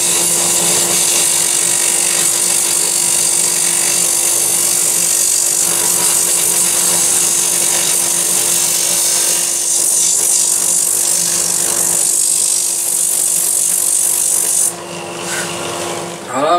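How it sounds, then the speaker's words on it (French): A power sander works over a turned walnut lamp with a continuous loud, hissing rasp that holds steady for most of the stretch, then drops off and eases near the end. "je vais poncer ça un peu pour enlever la petite bosse là"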